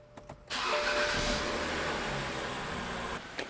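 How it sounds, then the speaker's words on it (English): A BMW E90 with a freshly swapped engine cranks briefly with a couple of clicks, then fires up and settles into a steady, even run that cuts off near the end, heard close and alone. "So now we're gonna start the car."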